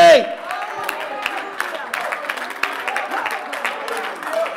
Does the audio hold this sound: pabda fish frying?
no